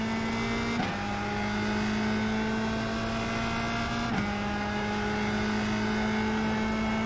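A USF 2000 open-wheel race car in iRacing on the Indianapolis road course holds a steady high-revving engine drone at full throttle, with two brief shift blips interrupting the constant whine.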